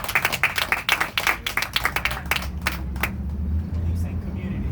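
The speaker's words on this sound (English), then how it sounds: "Clap for that." Scattered clapping at a mayoral campaign speech, a burst of uneven hand claps over the first three seconds that thins out and fades, leaving a low rumble of traffic or room noise underneath.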